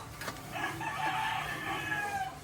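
A chicken gives a drawn-out, quavering cluck-like call, faint and somewhat distant, lasting a couple of seconds over low background noise.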